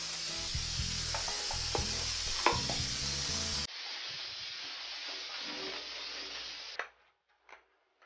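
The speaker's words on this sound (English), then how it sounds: "To spray our shower walls with our foam pink sprayer and spread it and let it soak." Foam cleaner sprays onto shower walls in a steady hiss that runs continuously, dropping to a quieter hiss partway through, then cutting off with a couple of short final bursts.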